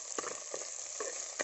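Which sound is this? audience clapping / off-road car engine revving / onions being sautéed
onions being sautéed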